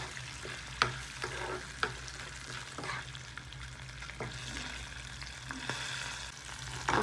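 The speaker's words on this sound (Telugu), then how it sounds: "అదే పుట్నాలు పల్లీలు వేసుకుంటే ముందుగా వేసుకున్న తర్వాత పచ్చిమిర్చి వేస్తాను." Roasted gram, peanuts and green chillies sizzling in a hot pan, with scattered sharp clinks and scrapes of a spoon stirring over a steady frying hiss.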